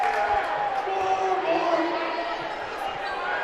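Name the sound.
Heritage crowd cheering at a basketball game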